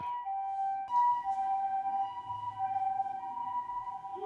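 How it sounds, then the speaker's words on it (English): An ambulance siren passing on a street in Japan, a steady wailing tone that holds at moderate loudness with slight wavering as it goes by, no voices over it. "An ambulance just drove by."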